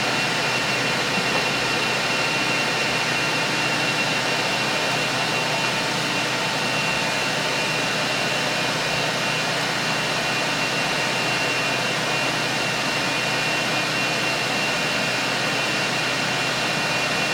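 An HP Latex 115/315 printer running its drying cycle after a print test, giving off a steady, even fan-like hiss and hum that holds unchanged for the whole stretch, with no talk.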